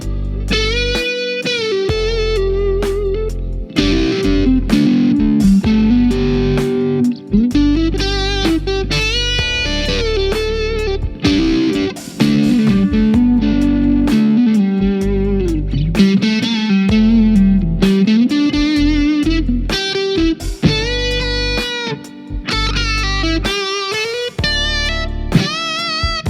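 Distorted electric guitar plays pentatonic licks and strummed chords over a full backing track with drums and bass, loud and continuous, in a lesson on playing pentatonics more musically.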